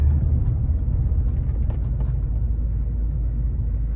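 A Range Rover with freshly repaired seized brakes slows from about 30 mph to a standstill, a steady low engine and road rumble from inside the cabin that fades slightly as it comes to rest, with no grinding or clunks.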